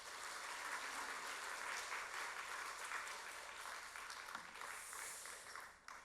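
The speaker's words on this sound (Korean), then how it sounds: "우리 오영대 목사님 우리 박수로 환영하겠습니다" A church congregation applauds steadily for several seconds to welcome a pastor, dense and even, tapering slightly toward the end.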